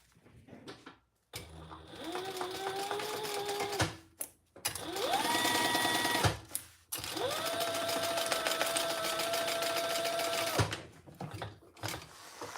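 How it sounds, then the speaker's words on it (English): A sewing machine runs in three long bursts, stitching the full-allowance seam of a triple sling, each run rising to a steady high whine before stopping, with short quiet gaps between. "let's sew that together at the full seam allowance."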